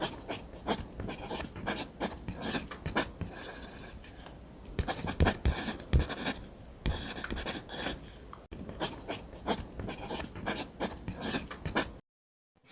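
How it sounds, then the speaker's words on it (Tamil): Pens scratch rapidly across exam papers as students hurry to write during a class test, a busy close-up rasping that comes in bursts and stops abruptly near the end. "வேகமா எழுதுங்க."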